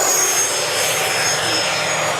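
An FMS Rafale 64mm RC electric ducted-fan jet makes a low pass, its loud, steady high-pitched whine filling the air continuously with no voices over it.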